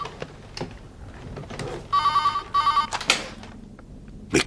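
A telephone rings in a French-dubbed 1995 TV drama, with two bursts of electronic ringing, each about a second long, set among thuds and handling noises.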